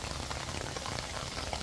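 Heavy rain pours steadily during a storm in Cuba, a dense, continuous hiss of drops drumming on surfaces, loud and close with no break.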